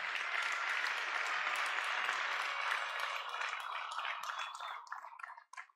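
Applause for a Belgian vice-prime minister during a political party speech, a full crowd clapping steadily at moderate distance, then thinning into scattered claps before it stops.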